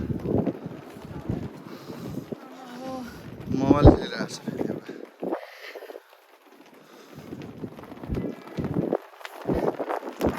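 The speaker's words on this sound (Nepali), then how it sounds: "हावा चल्यो यार" Gusty wind buffets the microphone in rumbling bursts while someone talks, with a brief whistling tone partway through.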